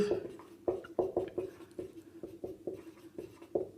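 Chalk or pen taps and scratches across a board in quick, uneven strokes while an equation is written out, close and fairly quiet, with no speech over it.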